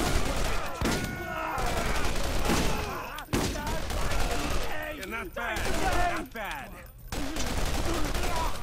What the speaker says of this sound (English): It's odd that it's shooting one first, and then it's going to the burst fire.